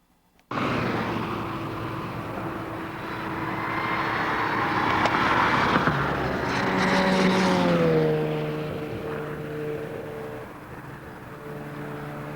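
Race cars, among them a white Datsun 240Z, lapping the track at Summit Point Raceway in West Virginia: a loud, continuous engine roar whose pitch rises and bends as the cars pass, with no talk.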